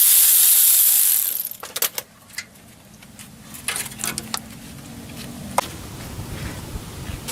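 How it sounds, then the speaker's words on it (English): Ratchet clicks and metallic tool sounds come from loosening a 12mm bolt at the front wheel hub of a Toyota Sequoia 4.7 4WD during a wheel bearing job. A loud hiss opens the clip, then close, intermittent clicking and clanks follow. "now I have to remove that 12mm bolt right there"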